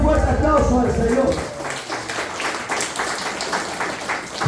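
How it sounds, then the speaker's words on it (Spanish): Church congregation clapping and applauding at a preacher's call, a loud voice speaking over the start before steady rhythmic clapping fills the rest. "den un fuerte aplauso al Señor"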